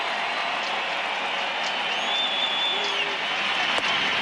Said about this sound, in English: this crowd is trying to get back into it